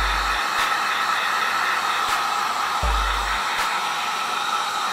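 A heat tool blows a steady, loud rush of hot air to heat-set paint on Nike Huarache shoes, cutting off briefly a few times before resuming, with no talk over it.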